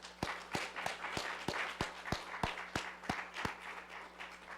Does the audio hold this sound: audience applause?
yes